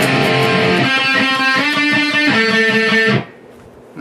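Distorted electric guitar riff, played loud and steady as a rhythmic chugging line with shifting notes, cutting off abruptly near the end.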